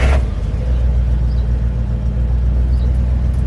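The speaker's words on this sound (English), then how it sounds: "Then I'm just going to click the throttle to set the choke, and then we'll crank." A Dodge B350 van engine cranking and catching on a minus 20 cold start in Canada, a loud steady low rumble that holds throughout, close by with no talk.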